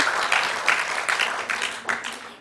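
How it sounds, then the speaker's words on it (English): Loud, dense audience applause at a youth awards ceremony, with rhythmic surges in the clapping that tapers slightly toward the end. "Let's give everyone a great big applause"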